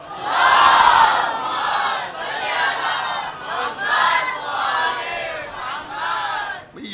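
A large congregation at a Shia majlis mourning gathering chants the religious slogan Nara-e-Haidari, with loud, sustained massed voices in rolling waves that rise and fall continuously.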